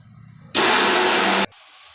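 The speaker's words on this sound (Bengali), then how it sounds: "কারেন্ট চলে যাওয়ার আগে এটা ব্লেন্ড করে নিই।" An electric kitchen blender runs in one loud, steady burst of about a second, with sharp starts and stops and quiet room sound before and after.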